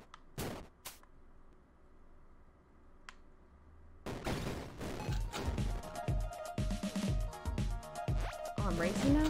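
Rapid shooting and impact effects in the video game Desert Child, a space racer, start abruptly after a quiet stretch and keep up a dense, busy burst of game sounds to the end, with a voice talking alongside.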